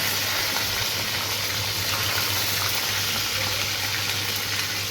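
Green chillies and garlic hit hot oil in a pan for rava upma, producing a dense, even, close sizzle that holds steady without pause throughout.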